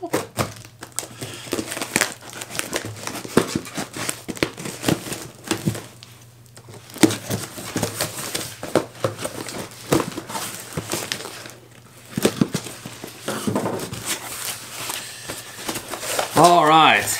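A large, heavily taped package holding classic bass fishing lures from the '80s and '90s is torn open, giving close, irregular crinkling, ripping and crumpling, with someone talking over much of it.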